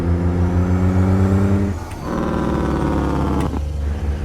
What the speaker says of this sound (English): I'll let you listen to the Jake brake here.